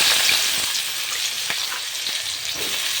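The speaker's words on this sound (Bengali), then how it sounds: "এগুলোকে এখন আমি তেলে ভেজে নেব।" Julienned onions sizzle steadily in hot mustard oil in a wok, a loud, continuous frying hiss with faint crackles and occasional stirring scrapes, no voices.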